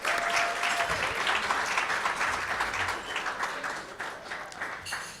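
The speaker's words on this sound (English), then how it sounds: "All right, let's give our 5th graders one final round of applause." Warm applause at a school essay contest awards ceremony for fifth-grade students, a steady wash of many hands clapping that gradually tapers toward the end.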